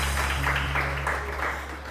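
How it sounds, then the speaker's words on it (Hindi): A studio audience on a TV morning show gives a short, faint round of clapping, an even patter of hands that gently fades out. "इनके लिए तालियां तो बजा दें"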